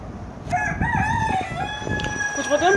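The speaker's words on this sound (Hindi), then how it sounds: "मुर्गी भाई, ए मुर्गी" A rooster crows and clucks loudly and close by in a farmyard, its rising and falling calls running continuously for a few seconds.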